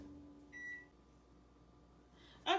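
A microwave oven melting white chocolate gives a short beep over its low running hum, followed by a brighter burst of beeps at the end.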